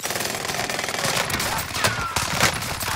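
Automatic gunfire rattles steadily in a video game. The dense, continuous bursts stay loud throughout and sit over a busy wash of other game noise.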